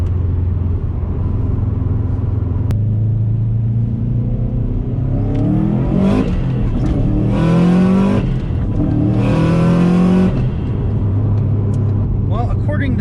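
A 2004 Subaru WRX STI with a fresh engine accelerates under 12 psi of turbo boost at partial throttle on a snowy road. It rises in two strong climbing revving pulls over a steady engine drone, heard from inside the car.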